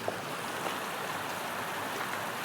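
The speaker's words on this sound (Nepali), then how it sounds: "त्यसै छेउमा खोला बगिरहेछ सर उता।" A river flows beside a rocky path between hills in Jajarkot, a faint, steady rushing wash with no break, heard from a short distance.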